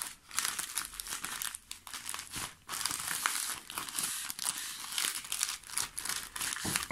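A newly delivered parcel is opened, its packaging crinkling, rustling and tearing steadily and close up, with no one talking.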